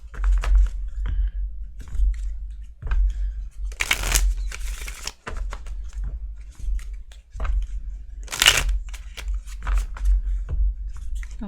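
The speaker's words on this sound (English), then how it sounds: "That was a weird shuffle that I didn't like." Tarot cards being shuffled by hand, a series of crisp riffling and flicking bursts with soft slaps between them, close and alone without talk.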